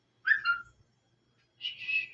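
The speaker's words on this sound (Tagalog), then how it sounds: "Sumisipol-sipol. Sinisipol niya ako." A person whistling two short, bright, two-note calls separated by a brief pause, close and clear against silence.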